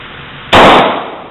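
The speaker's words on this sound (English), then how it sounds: "It's a long pull in that double action. It's a good surprising shot though" A double-action handgun fires a single sharp shot at a shooting range, a loud close crack with a short decaying tail, no talking over it.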